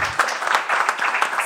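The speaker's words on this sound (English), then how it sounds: "Can we have a big round of applause for all the speakers and moderators?" Applause for the speakers and moderators at a regional power-grid interconnection roundtable, a steady crowd of clapping hands, moderately close, continuous for the whole stretch.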